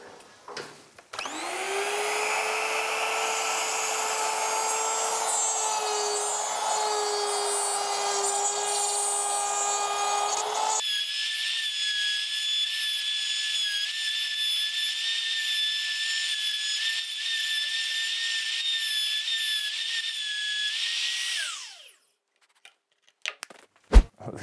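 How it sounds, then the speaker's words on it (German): A cheap 15-euro one-hand trim router from Amazon, spinning at about 30,000 rpm, mills a small pocket into a piece of walnut, giving a loud, steady high-pitched whine that shifts pitch midway and runs about 20 seconds before spinning down. "Wir haben unsere kleine Tasche gefräst und es hat auch grundsätzlich funktioniert."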